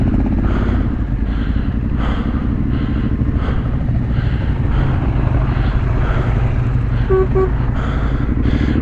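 Trail motorcycles riding a green lane on a group ride, a steady droning engine note running throughout, fairly close, with a brief horn-like toot near the end.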